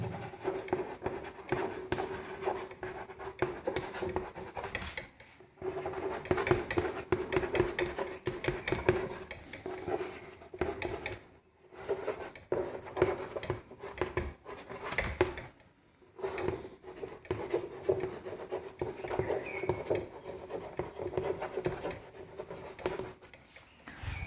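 A marker or chalk scratches and taps across a classroom board as biology notes are written. The strokes are close and busy, with short pauses, and no talking.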